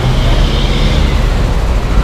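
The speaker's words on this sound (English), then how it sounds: "Look at all this traffic here." Street traffic in Merida, Mexico: a dense, steady rumble of passing vehicles, loud and close, with no pauses.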